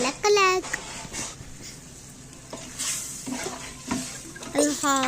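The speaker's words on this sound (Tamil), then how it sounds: "இந்த சிக்கனும் மட்டனும் அதில் எடுத்து நல்லா மிக்ஸ் பண்ணிக்கணும்." Chicken and mutton are mixed into simmering biryani gravy, with scraping stirs and a soft sizzle under intermittent talk, close by.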